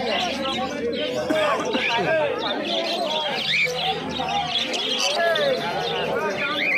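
Dense, overlapping chirps and whistles from several cockatiels at a pet market, continuous and close, with a talking voice mixed in underneath.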